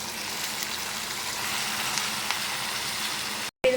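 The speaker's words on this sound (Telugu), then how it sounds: "ఇది మొత్తం నూనెలో మనం ఉడికించుకున్నాం" Mint and curry leaves frying in oil for a chutney, a steady close sizzle that runs unbroken, with no voices, then cuts off briefly near the end.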